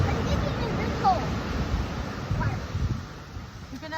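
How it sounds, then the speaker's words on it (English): Ocean surf rolls onto the beach at Battle Rock in Port Orford, Oregon, a steady wash of broadband noise with wind buffeting the microphone and brief faint voices in the background. "It's the ocean."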